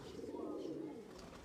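A racing pigeon, a tournament bird flown in 2021, gives a soft low cooing call, close but quiet, with faint background room noise.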